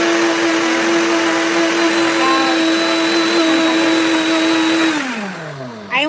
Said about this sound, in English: So this is how I make the oat flour. I just put it in my blender on high.